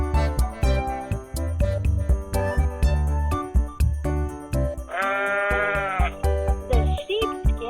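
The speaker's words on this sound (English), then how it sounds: "Sheep." A farm sheep bleats in a long, wavering cry over background music, loud and close, followed by a shorter second bleat.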